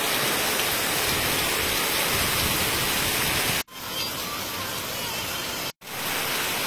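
Heavy rain pours down in a steady, loud, dense hiss that fills the whole clip, cut by two brief dropouts.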